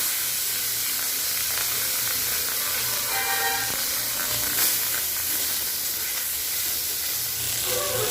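Kunkuni fish frying in hot mustard oil in a kadai, a steady loud hissing sizzle that holds without pause throughout, with no talking.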